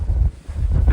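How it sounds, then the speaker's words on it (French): Strong gusts of wind on a Guadeloupe mountain at 1,467 metres buffet the microphone with deep, roaring rumbles that briefly ease midway, then surge back up loudly. "Il y a un taquet de vent."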